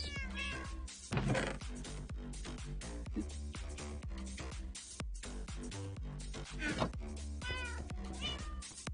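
House cats meow several times indoors, the calls mixed into a dense, busy, continuous background of other sounds.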